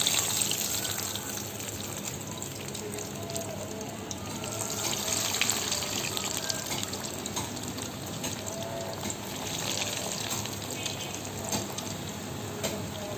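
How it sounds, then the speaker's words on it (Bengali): Coated egg chops sizzle in hot oil in a home kitchen, a steady close crackling hiss with a broad bubbling texture that holds throughout, swelling slightly at times, with no voices. "এগুলো আমি এক এক করে ভেজে নেব।"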